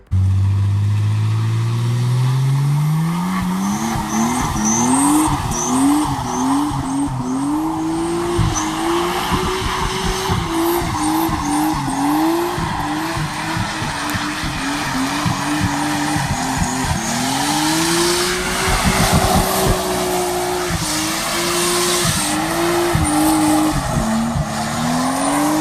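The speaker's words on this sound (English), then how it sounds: "I'll put a video of the burnout I did" Car with an RB20DET engine doing a burnout: the engine revs hard and repeatedly, rising and falling in pitch, with loud continuous tire squeal throughout, close and unbroken.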